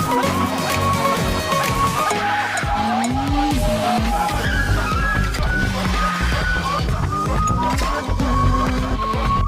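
An action film car chase plays with roaring engines, skidding and squealing tires over a dense, continuous score, loud and busy throughout.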